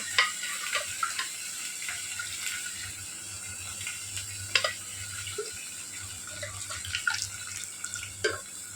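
Tap water running in a home kitchen, a soft steady trickle with scattered splashes and drips, close but fairly quiet, over a low background hum and with no talking.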